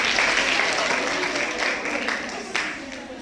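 At a public meeting in India, a crowd claps for three children in a steady burst that tapers slightly near the end, with no one speaking over it.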